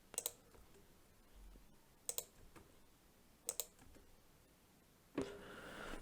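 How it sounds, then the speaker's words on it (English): Keys tapped on a computer keyboard: faint, sharp plastic clicks in a few small double-tap clusters spread over several seconds, ending with one slightly louder click, in a quiet room with no talking. "click the delete button on my keyboard"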